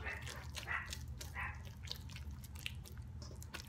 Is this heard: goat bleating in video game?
no